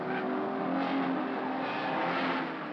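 Race cars at the 1970 Bathurst 500 roar down Conrod Straight, a continuous loud blur of engine noise with no break and no talk over it.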